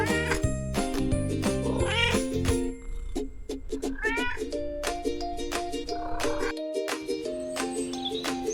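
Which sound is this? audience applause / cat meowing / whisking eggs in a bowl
cat meowing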